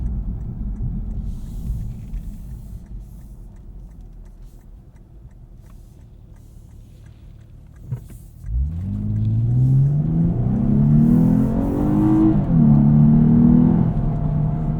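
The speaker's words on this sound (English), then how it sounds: "Listen to that V6 sing." A 2023 Lexus IS 350 F Sport AWD V6 engine revs up and accelerates in Sport mode, its pitch climbing steadily and growing louder after a quieter rumbling stretch, with no talking.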